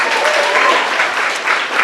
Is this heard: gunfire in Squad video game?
no